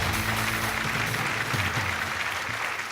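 Steady applause from a quiz audience after a correct answer, a dense, even roar of many hands clapping throughout, close and loud with no talking.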